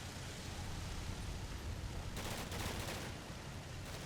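Mortar fire from the war game Combat Mission: Black Sea during a Russian tank assault: a faint, steady low rumble with scattered distant crackling bursts, strongest in the middle and near the end.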